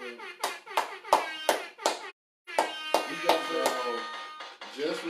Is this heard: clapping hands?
yes